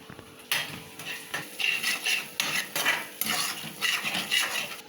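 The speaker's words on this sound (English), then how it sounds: "And now mix it well." A spoon scrapes and clanks against a pot as semiya pulao is mixed, in a quick irregular run of metallic strokes and rustles, close and fairly loud, with no voices.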